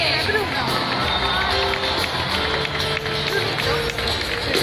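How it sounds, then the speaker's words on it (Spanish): Concert crowd applauding two backing singers at an outdoor festival show in María Pita square, A Coruña: dense, steady clapping mixed with cheers and crowd noise, loud and continuous throughout. "Fuerte aplauso para Susa y Mariole."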